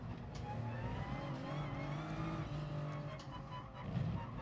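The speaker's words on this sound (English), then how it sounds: "And then we're going to brake quite heavily for this left and right." A race car in the video game GT Sport braking hard into a left-right corner, engine note droning steadily and shifting pitch with faint tire squeal, no talk over it.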